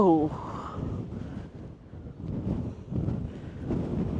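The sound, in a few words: strong wind blowing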